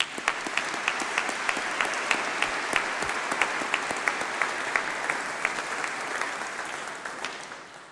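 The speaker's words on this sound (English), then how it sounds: "let's give a huge round of applause to those who have supported you and made all this possible" A graduation ceremony audience applauds steadily, a dense wash of clapping from many hands that holds at an even level throughout and tapers slightly at the very end.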